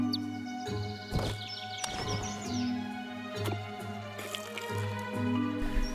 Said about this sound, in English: I'm going to head over and water the plant again